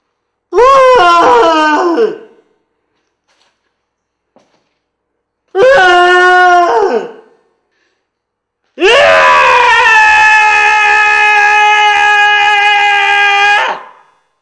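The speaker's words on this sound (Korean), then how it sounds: "여기에 슬픔에 찬 비명을 좀 넣어봅시다" Three sorrowful, wailing screams from a video artwork about how to become a rock, each a drawn-out harmonic cry; the first two are short and trail off, and the last is long and sustained, with silent gaps between them.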